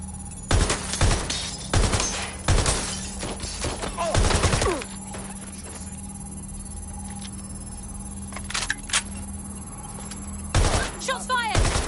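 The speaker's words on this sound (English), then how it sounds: "Shots fired!" Bursts of gunfire in Watch Dogs: Legion, sharp clustered shots around a steady hum, then a quiet lull before more loud volleys near the end.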